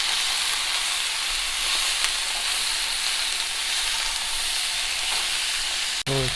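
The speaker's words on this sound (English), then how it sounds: "So stir fry the broccoli at least for 5 minutes" Broccoli stir-frying in a pan gives a steady, dense sizzle and hiss that runs throughout at close range, with a brief clink near the end.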